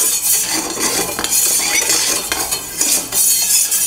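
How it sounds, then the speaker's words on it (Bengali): A spoon stirs sugar and salt into water for homemade oral rehydration solution, scraping and clinking against the container in a repeated rhythm, close and clear with no talking. "একদম পুরোপুরি চিনিটা এবং নুনটা পুরোপুরি জলের সাথে মিশিয়ে নিতে হবে এভাবে করে"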